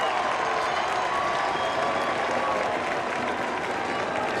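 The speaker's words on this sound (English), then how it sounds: "the crowd erupts in approval" Sustained crowd applause and cheering fill a stadium at a USL Championship playoff soccer match between San Antonio FC and Rio Grande Valley FC, loud, dense and steady throughout with no pauses.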